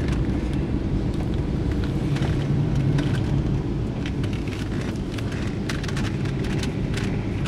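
A Ford Explorer engine idles with a newly installed power steering pump, a steady, even low hum and whir that stays constant throughout, heard up close with faint scattered clicks and no talking.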